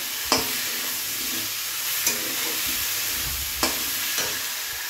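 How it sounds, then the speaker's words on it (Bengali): Chopped tomatoes and green chillies frying in a pan, a steady close sizzle with a few sharp spatula scrapes and knocks spaced about a second or two apart. "এবারে দিয়ে দেবো টমেটো কুচি, দিয়ে ভালো করে একটু ভেজে নেব ওর সঙ্গে"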